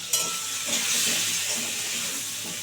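Olives being stirred with salt and turmeric in a pan while making olive pickle give a steady close sizzle with soft scraping underneath, continuous across the short stretch.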